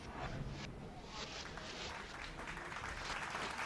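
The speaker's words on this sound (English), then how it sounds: "The generosity of the applause enables Dr. Groom to loosen his tie" Generous applause from an audience at a lecture podium, a steady dense wash of clapping that holds evenly throughout.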